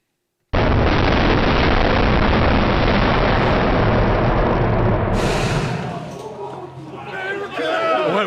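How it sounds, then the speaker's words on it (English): An explosion on a film set roars out as a sudden, loud, sustained blast of broadband noise that slowly decays, followed by people talking nearby. "Impressed by that explosion?"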